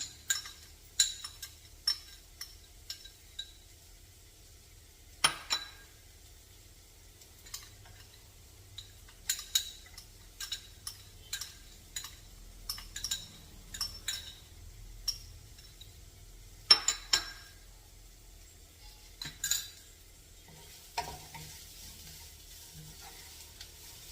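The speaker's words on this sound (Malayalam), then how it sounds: "ഇനി നമുക്ക് ജിഞ്ചറും ഗാർലിക്കും ഇട്ട് കൊടുക്കാം" Ginger and garlic going into a pan for dal fry, with a faint sizzle under scattered sharp clinks and scrapes of a spoon stirring against the metal, intermittent and fairly quiet.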